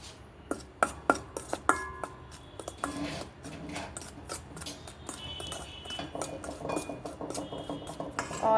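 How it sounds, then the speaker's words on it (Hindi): Oil and ingredients being mixed in a bowl for a Christmas plum cake, with clinking utensil taps against the bowl and steady stirring scrapes, fairly quiet and close. "और अब हम ये दोनों चीज़ों को अच्छी तरह से मिक्स"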